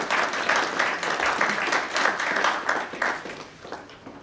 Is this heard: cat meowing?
no